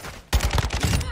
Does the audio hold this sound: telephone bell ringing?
no